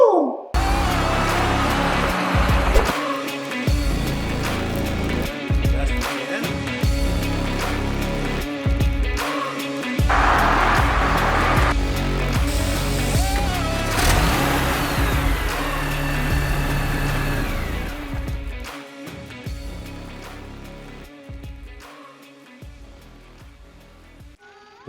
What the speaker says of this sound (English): we're going to make some good go fast noises